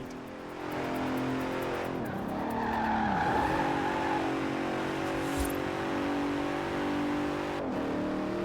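Engine of a 2017 Bentley Continental GT Supersport grand tourer driven in Forza Horizon 4, a loud continuous drone that climbs and falls through revs, with tire squeal midway and a brief gear-change dip near the end.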